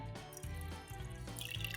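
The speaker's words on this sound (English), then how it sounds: "I have my little milk jug and we are going to pour it." Milk poured from a small jug over a hot cocoa chocolate bomb in a mug, a continuous liquid splashing and trickling stream with a few drip-like bursts, close and fairly loud, with no talking.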